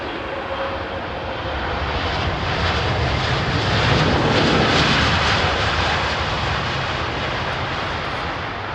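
An airliner lands at a snowy London Heathrow, its jet engine roar rising and cresting mid-pass before easing away, loud and continuous with no talking.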